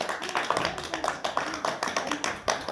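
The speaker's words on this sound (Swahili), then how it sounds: "Tuwapigie makofi." Applause for two quiz winners at an academy, a quick run of hand claps repeating at a steady pace and at moderate volume, with no talk over it.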